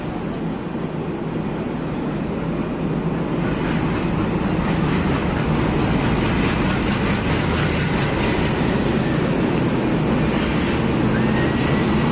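The Deccan Queen Express pulls into a station platform on the Mumbai to Pune line, giving a steady, loud rumble of rolling carriages and wheel noise throughout.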